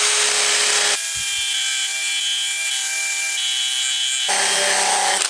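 A coarse brush scrubbing charred shou sugi ban wood, a loud raspy scraping in two bursts at the start and end, with a quieter tonal machine hum in between.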